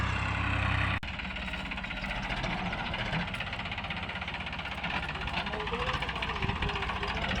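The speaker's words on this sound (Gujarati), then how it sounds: "એક ટ્રેક્ટર બ્રેક વાળે છે એ અરવિંદભાઈ." A tractor engine runs on a farm in a village in India, a steady, rough, knocking mechanical rumble close by, heard under people talking, with a sharp knock near the start.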